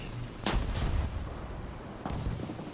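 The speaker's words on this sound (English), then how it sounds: "Nat Desok gets a bomb onto Poltergeist in the smoke and takes him out" Two booming bomb blasts in the video game BlitzFront, a 5v5 match, land about a second and a half apart, each a heavy, low thud with a short rumbling tail over a steady background.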